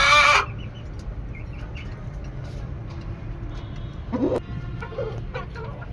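Backyard poultry hens, kept for laying, give a few short clucks: one loud burst at the start and another midway, with faint scattered calls over a low background hum.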